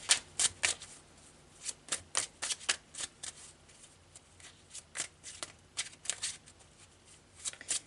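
Tarot de Marseille cards being shuffled by hand in a run of crisp, riffling flicks and soft slaps, each short burst close and clear, repeating steadily with no talk.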